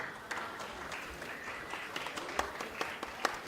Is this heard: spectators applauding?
yes